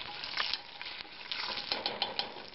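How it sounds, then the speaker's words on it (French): A sauce with oil and cayenne pepper is beaten briskly in a pot, giving a steady, fairly faint run of scraping and light clinking strokes with no talk. "Il faut bien battre le tout pour que la sauce se dilue à l'huile"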